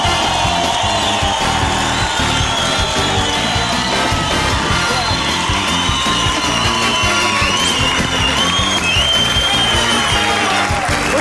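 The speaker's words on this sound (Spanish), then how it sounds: "Vamos a recibirlo con un fuerte aplauso." A studio audience cheers, whoops and applauds loudly and steadily to welcome a comedy show's entrance, a dense continuous roar of clapping and yelling with music underneath.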